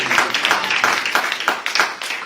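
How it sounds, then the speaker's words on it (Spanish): A church congregation applauds the priest with a cluster of clapping hands and distinct sharp claps standing out irregularly, fairly close, with no talk over it. "¿Cuánto le dan un aplauso al Padre?"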